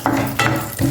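Cashews, raisins and pumpkin seeds fry gently in ghee over low heat, with soft sizzling and a few scraping, clinking stirs of a spoon against the pan, close up, over about a second.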